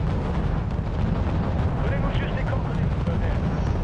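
Artillery and explosions in Wargame European Escalation merge into a loud, continuous rumbling roar, thick low booms overlapping with crackling bursts and no clear pause between them.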